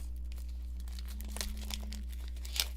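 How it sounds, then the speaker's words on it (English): Crinkling and tearing of plastic wrap as a white plastic picture frame from a dollar store is unwrapped, faint soft crackles with a couple of sharper rustles near the end, no talking. "I took this white frame and I'll go ahead and unwrap it"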